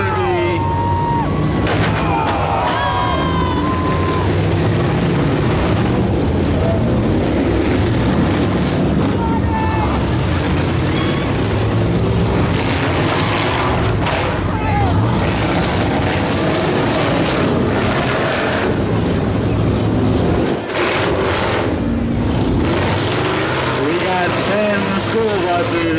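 Several short school buses grind and rumble through a demolition derby, dense engine roar and clanking impacts under constant crowd noise and wind buffeting the mic, with occasional shouts over the din.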